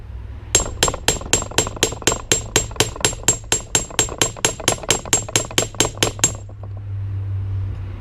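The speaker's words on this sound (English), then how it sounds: "You get a hammer and bludgeon it." A hammer strikes a tool repeatedly to loosen a stuck screw on a Honda CT110 motorcycle engine during a top-end teardown: about twenty sharp, ringing metallic blows in a steady rhythm, close and loud, then a low hum.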